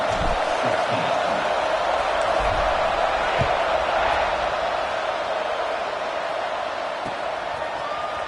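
A football stadium crowd roars steadily before a kickoff, a dense, far-spread cheer sustained throughout, with a few faint thuds and shouts within the din.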